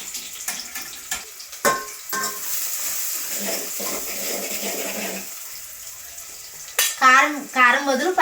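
Onions going into hot oil in a home kitchen, a rising sizzle after some stirring clatter and handling, followed by tapping sounds and a voice near the end.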